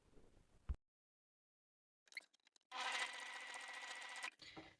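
A sewing machine stitches teddy bear pieces in one steady run of about a second and a half, fairly close and alone. A few short clicks and handling noises come just before it.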